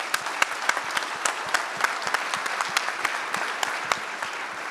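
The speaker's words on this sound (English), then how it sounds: "let's give a good round of applause for Scott Young." A crowd at an anniversary lunch gives a round of applause, steady dense clapping with a few sharper, nearer claps standing out through the whole stretch.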